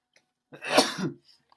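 A single sudden sneeze-like burst close to the microphone, sharp and breathy, lasting under a second with a short tail, then near silence with faint small noises.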